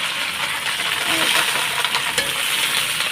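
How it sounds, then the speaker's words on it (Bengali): Okra and potatoes frying together in a pan, a steady bright sizzling hiss up close with a few light clinks of stirring. "এই যে ভেন্ডিগুলো দিয়ে দিলাম আর এখন আমি আলুগুলোও দিয়ে দেবো একসাথেই ভেজে নেবো"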